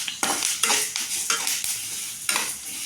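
Red chillies and grated coconut dry-roasting in a pan without oil, heard as a run of brisk scraping stir strokes in short bursts with a light crackle, close and fairly loud, no voices.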